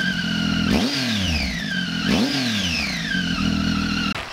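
An inline-three motorcycle fitted with an aftermarket Aero exhaust is revved twice in sharp, rising blips, each falling back toward idle, close and loud with no one talking.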